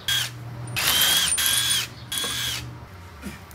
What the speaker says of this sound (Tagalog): At ito namang impact wrench from Dongcheng ang gagamitin natin.